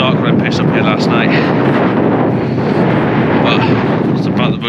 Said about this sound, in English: Good morning from a very windy cliff on the outskirts of Beer.